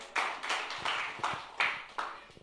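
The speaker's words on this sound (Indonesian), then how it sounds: "Berikan tepuk tangan." During a church service, a congregation claps in unison, six sharp, fairly regular beats spaced about every third of a second or more, each one a bright burst of many hands heard from moderately close.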